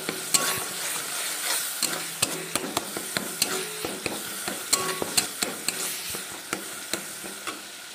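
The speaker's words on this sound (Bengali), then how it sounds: "এবার সেটাকে আমি খুব ভালোভাবে আবারও টমেটোর সাথে কষাতে লাগবো।" Tomato sautéed with a ginger, cumin and coriander paste in a pan, sizzling steadily while a spatula scrapes and taps the pan in quick, irregular knocks.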